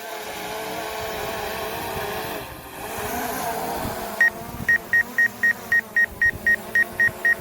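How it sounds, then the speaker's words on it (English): A steady DJI Air 2S drone motor hum gives way to a rapid series of short, evenly spaced electronic obstacle-detection beeps, about a dozen in quick rhythm over the engine noise. "So the beeping you hear is it actually detecting."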